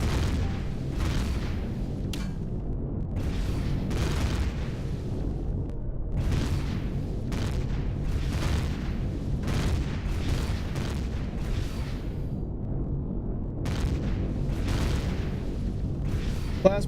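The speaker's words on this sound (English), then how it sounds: "Plasmas seem to be firing pretty good." Plasma turrets fire in the space game Empyrion Galactic Survival, a rapid irregular stream of deep booming shots over a constant low rumble, steady and moderately loud with no talk over it.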